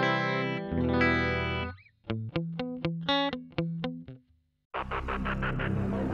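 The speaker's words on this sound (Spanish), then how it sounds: "este sería el sonido con el amplificador, la simulación" A bright, distorted electric guitar rings out in short chords and stabs with gaps between them, colored by a chorus-like effect, through an amp simulation on a Valeton GP-200.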